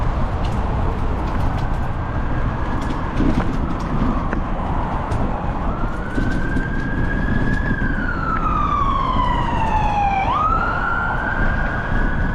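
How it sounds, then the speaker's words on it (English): An ambulance siren sweeps up and down as it passes along a road, loud and close, with steady broadband road and wind noise underneath throughout. "Ambulance in a hurry."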